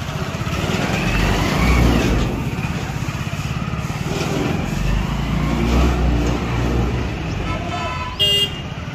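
A Hero 100cc motorcycle towing a jugaad food-stall trolley runs along a road near Beed, its engine a loud, continuous drone close by, with a brief horn-like tone near the end.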